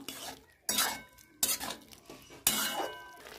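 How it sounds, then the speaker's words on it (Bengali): Fried prawns and flat beans are tossed in a pan with three loud scraping stirs of a metal spatula, each followed by a fading rattle over a faint sizzle. "চিংড়ি মাছগুলো দিয়ে দিয়েছি, একটু নেড়ে চেড়ে নেবো।"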